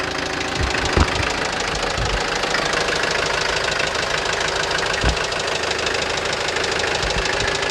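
A small engine idles right after a fuel filter replacement, a steady close mechanical chug with a knocking texture running unbroken, plus a couple of brief clunks near the start.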